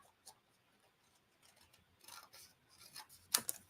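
Scissors trim paper for a travel journal kit: a few faint, quiet snips and rubbing sounds, with a sharper, clearer cut near the end.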